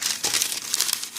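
Parchment paper handled by hand in a home kitchen while making goat milk cheese dog treats, crisp close crinkling and rustling in quick bursts, no talking.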